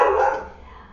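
A single close, loud dog bark that fades quickly, heard alone.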